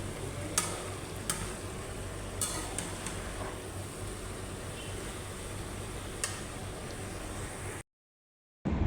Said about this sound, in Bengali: ভেন্ডি ভাজি প্রায় হয়ে গেছে।